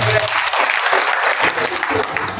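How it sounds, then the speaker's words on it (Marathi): An audience at a community gathering and conference in Jalgaon breaks into loud, sustained applause, a dense, close clapping that fills the room without a break. "जोरदार टाळ्या द्या"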